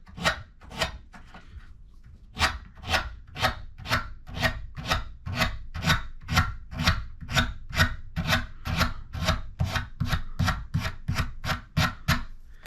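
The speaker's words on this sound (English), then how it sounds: "Take your sandpaper, back it with your thumb, like this." Sandpaper backed by a thumb rubs the edge of a wooden bridge being made for a Martin D-35 guitar, giving a long run of close, even rasping strokes in a steady rhythm after a few slower opening passes.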